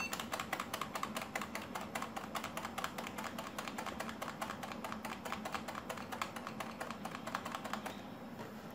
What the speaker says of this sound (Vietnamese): nhấn phím F12 trên bàn phím liên tục